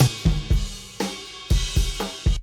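A snare drum played in an acoustically dead room, dry and boxy, with about eight sharp close hits in a loose rhythm and very short decay, alone with no talking.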